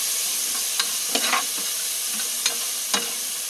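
Garlic, onion and tomato sauté together in a pan, a steady close sizzle broken by several sharp scraping knocks of a spatula stirring, with no speech.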